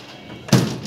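A microwave oven door shuts with a single short thump at close range, just after beef kebab has gone inside, in an otherwise quiet kitchen.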